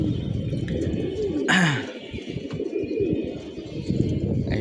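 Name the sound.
pigeons cooing and flying on a rooftop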